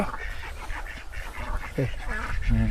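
Ducks quack on a Thai farm where laying ducks are kept for eggs, a few short nasal calls rising near the end over steady outdoor background noise, with someone talking at times.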